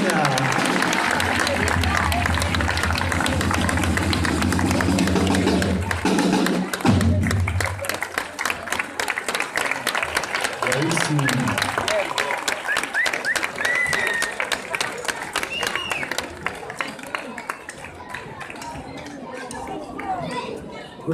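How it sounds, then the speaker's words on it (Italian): Crowd applauds flag-wavers at a sbandieratori competition in Scarperia, Italy, loud continuous clapping mixed with drum thumps early on, then fading into chatter and scattered claps with voices throughout. "applauso agli alfieri medici della Val Marina"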